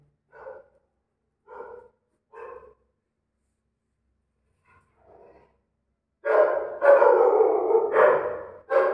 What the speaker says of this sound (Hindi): ये रात में कुत्ते बहुत भौंकते हैं जो, इनका कुछ नहीं कह सकता, ये भौंकते ही रहते हैं।